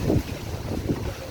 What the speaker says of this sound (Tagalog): Masama yung panahon dito sa amin, malakas yung hangin, no?